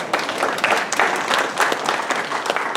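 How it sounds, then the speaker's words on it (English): An audience at a community meeting in Delray breaks into dense, sustained applause, many hands clapping at once in a loud, even wash with no talking over it. "and a round of applause"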